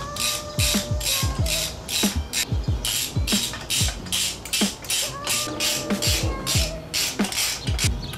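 Ratcheting as screws are driven into the air cleaner backing plate of a Harley-Davidson Sportster Iron 883, a close series of quick clicking bursts repeating in a steady rhythm.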